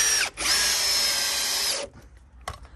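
A power drill drives a screw into wooden decking in one steady high whine that lasts under two seconds, followed by a few faint knocks.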